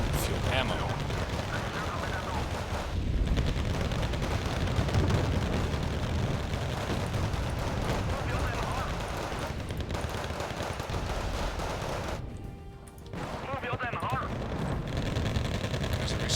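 Bombing and gunfire in the Wargame Red Dragon strategy game, a dense, continuous roar of blasts and weapon fire with a voice talking over it throughout and a brief lull near the end.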